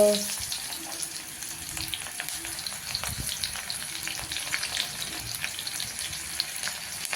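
Finely chopped garlic frying in a pan makes a continuous close crackling sizzle, fairly loud, with scattered sharp pops and light utensil scrapes, and no one speaking.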